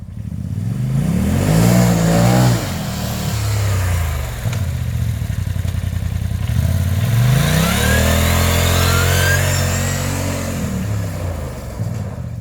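A Polaris RZR Turbo side-by-side fitted with portal gear hubs revs and accelerates up close, its engine rising and falling in repeated pulls with a high gear whine over the throaty drone.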